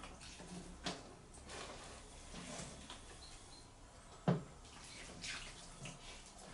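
Water trickles and splashes softly into soil, faint and close, with a few light knocks of a pot or container.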